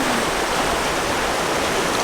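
A creek running high and fast after seasonal flood rains, a loud, dense, unbroken rush of water filling the whole clip close by, with no voices.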